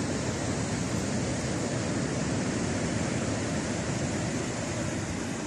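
Calm sea surf on a white-sand beach at Tagounite coast, a steady broad wash of gentle waves rolling onto the shore with no wind, continuous and even throughout, no voices.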